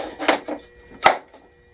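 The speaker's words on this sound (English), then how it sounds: "When you put the battery in, you're not going to hear that click. But now with the batteries out, listen." A plastic battery latch on an FMS 1400mm Pitts V2 RC plane clicks with the battery removed: a few short, close, dry clicks and taps, the sharpest one near the end, with no talking.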